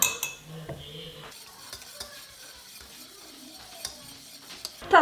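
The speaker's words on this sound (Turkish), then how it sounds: "Şimdi şöyle çırpıcıyla biraz karıştırıyorum" A whisk scrapes and stirs steadily against the inside of a metal pot of pudding mixture on the stove, with light clinks of metal and a soft sizzle underneath, close up.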